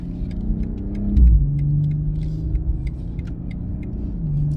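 BMW 840i Gran Coupe with a ZF automatic transmission, in motion as its engine revs up with a low, steady rumble, swelling briefly louder and settling into a smooth drone with no talking.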